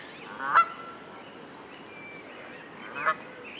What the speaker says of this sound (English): Maybe Canada geese, these are getting quite big.